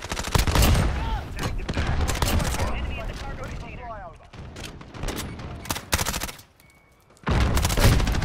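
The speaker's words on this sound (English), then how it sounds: "Who's shooting at everybody?" Loud rapid bursts of gunfire in Call of Duty: Modern Warfare, dense automatic volleys with short gaps and a brief lull before shooting resumes, with voices talking between shots.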